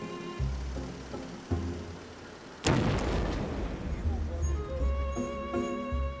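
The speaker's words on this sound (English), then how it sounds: "The force from the explosion is so strong it rips the rubber right off the wheel" A sudden loud blast of an explosion on a road cuts through low musical tones, followed by a long crackling rumble that slowly fades under the continuing music.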